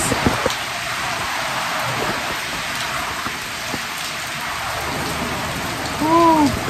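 Typhoon downpour hisses in a thick, unbroken wash of heavy rain, and a short voice rises briefly near the end.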